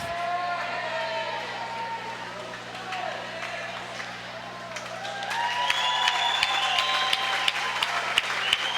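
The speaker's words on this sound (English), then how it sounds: "Big cheers from the crowd at the end of the relay." At a high school swimming meet, spectators cheer and clap at the finish of a relay. Voices carry over the noise at first, then the crowd's applause and shouting swell louder toward the end.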